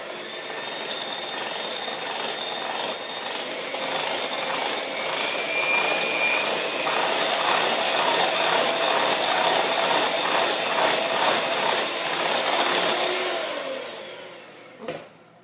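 An electric hand mixer beats cream cheese filling for whoopie pies on a slow speed, with powdered icing sugar and whipping cream mixed in; a steady, loud mechanical whir runs continuously with no talking, then cuts off with a brief clunk near the end.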